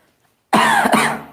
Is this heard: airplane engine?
no